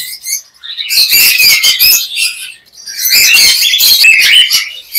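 Lutino cockatiels at a busy bird market give loud, shrill chirping calls in two dense bursts, close by, with a short gap between them and no talk.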